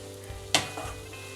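A spatula gives one sharp scrape as cooked grated beetroot and carrot are stirred in a pan over a faint continuous sizzle, close and brief.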